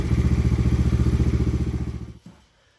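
A Yamaha Raptor 90 ATV engine, just fitted with an aftermarket carburetor, idles with a loud, steady, close-up putter of rapid rhythmic pulses for about two seconds, then cuts off abruptly into near silence.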